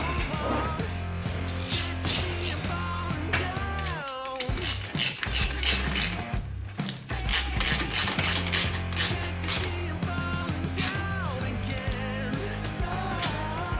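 Ratchet tightening a hose clamp on a Scrambler heater hose, a rapid clicking pawl heard close in quick back-and-forth strokes over a steady mechanical hum, with no talk.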